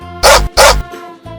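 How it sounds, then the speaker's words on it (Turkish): A dog gives two quick, loud barks close by, then falls quiet. "Bu bir köpek."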